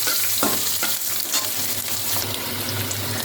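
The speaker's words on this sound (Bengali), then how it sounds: "এর মধ্যে খানিকটা রসুন আর পেঁয়াজ এগুলো দিয়ে দেবো। একটু ভাজা ভাজা করে নেবো এগুলোকে" Garlic and onion frying in a pan, a continuous close sizzle with occasional stirring scrapes and a low hum beneath, no voices.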